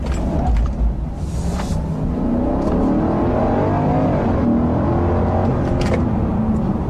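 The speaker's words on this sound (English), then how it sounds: "Now, one thing this 5-liter V8 has is pretty good power." A 2015 Kia K900 sedan with a 5-liter V8 accelerates, its steady engine roar and rising harmonic sweep building continuously over a low rumble, heard from inside the car with no talking.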